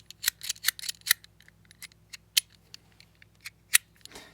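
A ProxyEDC Cyborg Soul ratchet magnetic slider knife gives off a series of sharp, close metallic clicks and rattles, some in quick clusters and others spaced apart, each crisp and brief.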